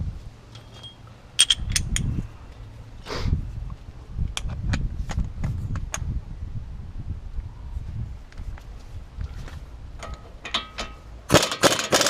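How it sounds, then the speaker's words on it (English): A socket ratchet loosening the brake caliper retainer bolts on a Lexus LS430 during a pad and rotor job: scattered metallic clicks and clunks in a quiet garage, with no talking. "you're going to take these 2 retainer bolts off for the actual caliper"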